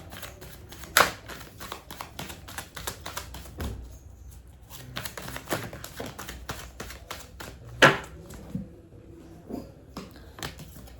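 A tarot deck is shuffled by hand, with a long run of rapid papery riffles and flicks broken by a few louder taps and a short pause, up close with no talking.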